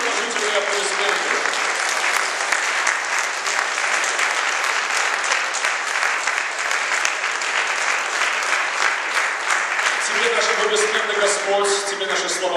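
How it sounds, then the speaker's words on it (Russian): A church congregation applauds together in a Sunday service, a dense, sustained wash of clapping that holds steady throughout, with a voice speaking over the applause toward the end. "Крупные и положительные аплодисменты."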